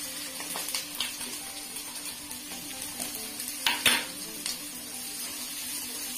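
Garlic and green chilli frying over a high flame in a pan, a steady loud sizzle with scraping stir strokes and a few sharp clinks of a utensil against the pan.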